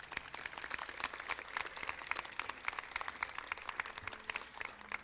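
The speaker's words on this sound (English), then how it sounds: "we do need to give all of these folks an additional round of applause" A round of applause from a gathered crowd honoring city department heads and employees at an outdoor ribbon-cutting for a new city services center and aquatic center; dense, steady clapping at moderate distance, fairly faint, with no voices over it.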